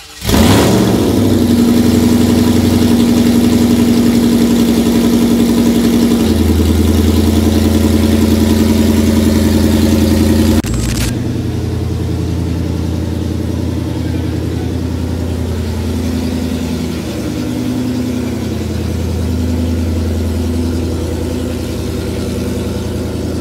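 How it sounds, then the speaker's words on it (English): A Ford Cobra Jet drag car engine fires up loud and close, settling into a rough, lumpy idle with a brief rev, then drops to a steadier rumble inside a shop. "we got a pretty cool car that's fixing to fire up and leave the shop"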